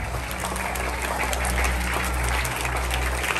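An audience at a school farewell ceremony for teachers in Malaysia bursts into steady, dense applause, many hands clapping together over a low hum, with no voices rising above it.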